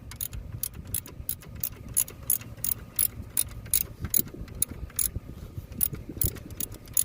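A ratchet wrench loosens a bolt on a 1999 Toyota Avalon alternator, giving a rapid series of close, sharp clicking bursts in an uneven rhythm.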